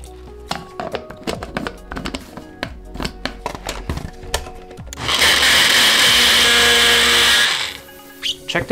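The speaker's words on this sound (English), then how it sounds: "Gonna blend it along with the rest of the ingredients." A kitchen blender whirs loudly for about two and a half seconds, blending soft simmered vegan okonomiyaki ingredients, after a run of sharp taps and thunks from kitchen tools.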